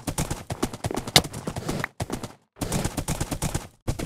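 A horse gallops in a Minecraft game in rapid rhythmic clip-clop hoofbeats, loud and close, broken by brief pauses before the running resumes.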